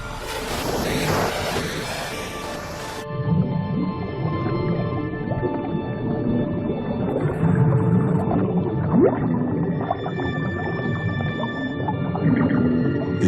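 Low, strange dwarf minke whale calls drone and pulse under water on a reef, with a brief burst of rushing noise at the start and a faint rising tone later.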